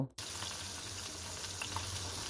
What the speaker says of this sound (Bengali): প্রথমে মাথাটা আমি সব সাইডে ব্রাউন কালার করে ভেজে নেব